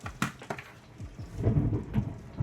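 Rolling thunder rumbles during a heavy downpour, the steady hiss of pouring rain continuing throughout while the deep low rumble swells louder toward the end.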